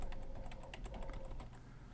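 Keys clatter steadily on a computer keyboard as a poll title is typed in Zoom, a fast, even run of close, light clicks with no voices.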